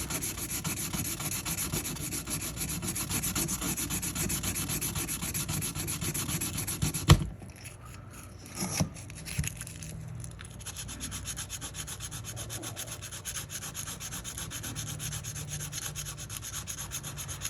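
Steady sandpaper rubbing on a scout knife runs for about seven seconds, stops with a sharp knock, a few clicks follow, then softer continuous scraping resumes at lower level.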